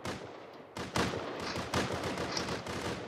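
Rapid bursts of video game gunfire crack out loud and close, with one volley near the first second and another shortly after, over a continuous layer of in-game background noise.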